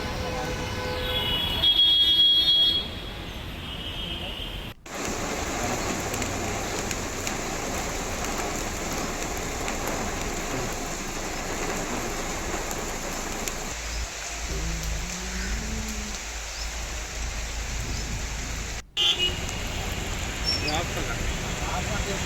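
Steady heavy rain hisses throughout over a city, a dense constant wash of noise, with a voice speaking over it and a brief break partway through.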